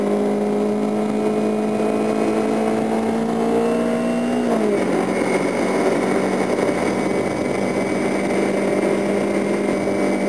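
A vehicle engine runs in second gear with a steady, close humming drone whose pitch drops and settles partway through, then holds evenly.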